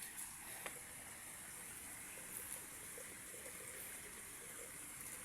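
A shallow, low-running river flows in a steady, faint wash of water with a few tiny splashes and no voices.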